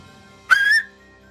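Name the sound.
signal whistle being blown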